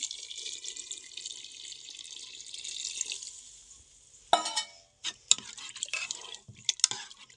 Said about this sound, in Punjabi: ਇੱਧਰ ਆਪਾਂ ਨੇ ਗਰਮ ਪਾਣੀ ਲੈ ਲਿਆ ਇਹਨੂੰ ਇਹਦੇ ਵਿੱਚ ਐਡ ਕਰ ਦਿੰਨੇ